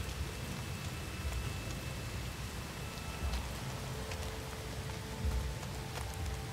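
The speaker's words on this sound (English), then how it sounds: "it's raining now, but it's not the storm" Steady rain falls across the open planet in the video game No Man's Sky, a dense even patter with no voices, separate from any toxic storm, holding at the same level throughout.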